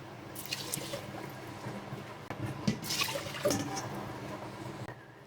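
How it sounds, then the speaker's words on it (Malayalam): Water poured into a pressure cooker over washed broken rice, a close splashing, gurgling pour that rises and swells in bursts before tailing off into drips. "കുക്കറിലേക്ക് നന്നായിട്ട് വാഷ് ചെയ്ത അരി നമ്മളിട്ട് കൊടുക്കുന്നു"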